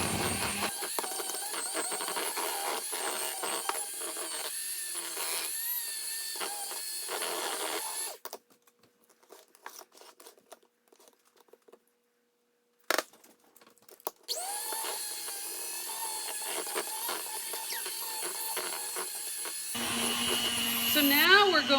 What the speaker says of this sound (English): So now we're going to shut off my mixer